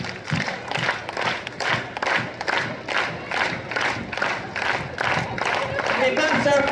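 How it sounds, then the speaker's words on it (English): A crowd on a Disney Wonder cruise pirate night claps in fast unison, about a dozen loud rhythmic pulses in a row, with cheering and shouting voices mixed in. "Let's clap it out nice and fast."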